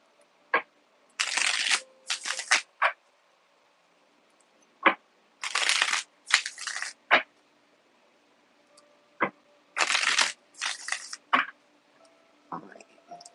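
Several bursts of playing cards being shuffled, each a quick riffling rush, separated by short pauses and light taps, close and fairly loud.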